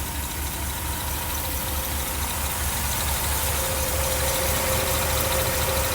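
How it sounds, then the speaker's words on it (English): A 1982 Mercedes 380SL engine, with a newly installed timing chain tensioner, idles smoothly and steadily, a low, even hum with no revving and no voices. "That's the best it sounded yet."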